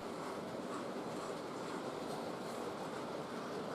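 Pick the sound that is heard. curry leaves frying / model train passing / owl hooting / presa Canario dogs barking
model train passing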